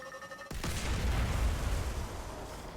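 A charged Scorch Cannon in Destiny 2 fires with a sudden heavy boom, followed by a deep rumbling explosion that rolls on and slowly fades, loud and close.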